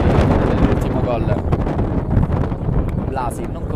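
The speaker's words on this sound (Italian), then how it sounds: "Inizia a soffiare il vento come la giornata di ieri" Wind gusting across an outdoor football pitch, a loud buffeting rumble on the microphone with rustling hiss, heard under continuous Italian sports commentary.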